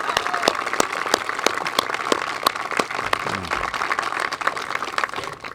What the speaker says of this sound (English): let's give her a well-deserved round of applause for this